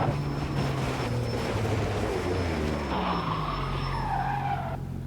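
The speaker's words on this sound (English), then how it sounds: "I'm just going to brake gently now." Car braking hard with too much front brake bias, tires skidding and squealing in a long, wavering screech over a steady engine drone, close and continuous before easing off near the end.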